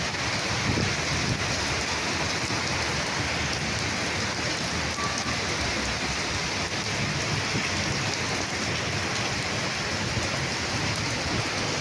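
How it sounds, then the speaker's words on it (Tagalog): Heavy typhoon rain pours down in a dense, unbroken hiss, loud and constant throughout, with a low rumble beneath it. "palakas na palakas yung ulan"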